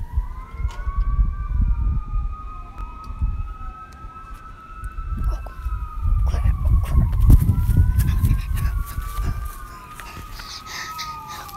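Wailing police sirens rise and fall over a rumbling background, several overlapping tones sweeping steadily for the whole stretch, fairly close and loud.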